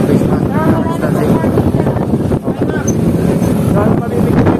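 Gusty wind buffets the microphone with a steady low rumble in Tagaytay, while a person talks throughout.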